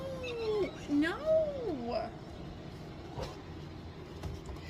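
Kittens meow in a sewing room, several rising and falling cries close by in the first two seconds, followed by quieter room tone and faint background noise.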